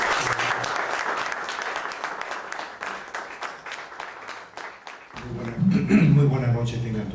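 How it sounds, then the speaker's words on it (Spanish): An audience at a medical conference on cerebrovascular disease applauds its speakers with sustained, dense clapping. A voice starts speaking over the tail of the applause. "yo les solicito un aplauso para nuestros conferencistas"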